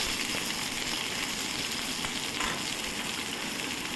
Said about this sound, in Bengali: তেলের মধ্যে দিলাম কালো জিরে, আর দেব পেঁয়াজ।